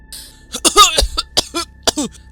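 A few harsh coughing bursts, close and loud, spaced unevenly with brief throaty sounds between them.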